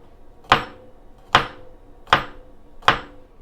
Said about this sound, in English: We're also going to need to slice up 4 cloves of garlic.